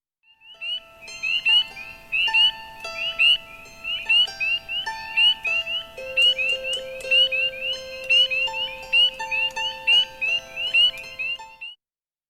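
A chorus of frogs croaks and trills in repeated bursts, several calls overlapping at close range, with sustained tones running underneath throughout.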